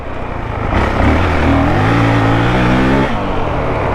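A 2023 Honda CRF450X dirt bike with a thermostat delete kit revs up and pulls hard. The engine note is loud and close, rising and holding steady for a few seconds before settling back, with no voices.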